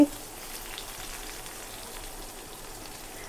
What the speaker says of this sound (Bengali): এখন দিলাম হচ্ছে পেঁয়াজ আর রসুন কুচি।